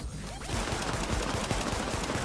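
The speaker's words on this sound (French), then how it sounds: "Je tire à travers le mur les gars." Gunfire shot through a wall in the video game The Division: a dense, loud burst of rapid shots filling the whole short clip after a brief lead-in.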